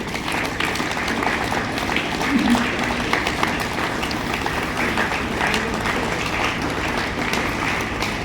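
Sustained applause from a crowd at a block-level school science exhibition, a dense steady patter of clapping that holds for several seconds with a faint murmur underneath.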